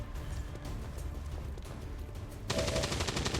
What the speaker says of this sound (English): start shooting every zombie you can get your hands on